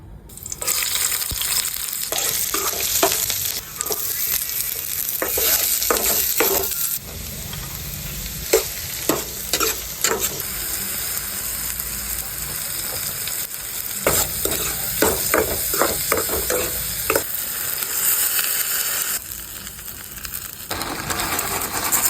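Masala Maggi noodles with onion and tomato sizzle and fry in a pan while a utensil scrapes and stirs in repeated strokes, close and fairly loud, with no talking.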